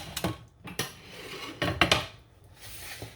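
Fish and vegetables being mixed in a baking pan, several separate scraping clinks and metallic rubs of a utensil against the pan in irregular bursts, close and clear.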